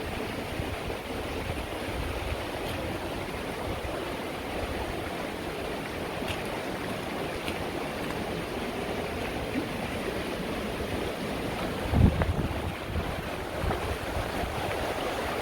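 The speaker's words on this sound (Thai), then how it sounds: "สายน้ำนี่กะ มันกะไหลมาจากน้ำตกที่เฮาสิขึ้นไปเบิ่งนั่นเลยจ้ะ" Mountain stream fed by a waterfall in the Swiss Alps rushes in a steady, broadband wash throughout, close and continuous, with one brief low thump near the end.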